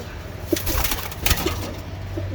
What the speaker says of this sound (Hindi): और कबूतर भी छोड़ते जा रहे हैं।